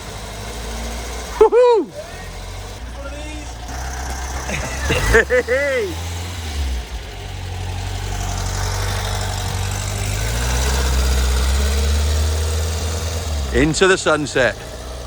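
A freshly resurrected old car's engine runs steadily while driving, a loud, close, continuous low rumble that swells and eases, with excited voices shouting over it at the start, middle and end.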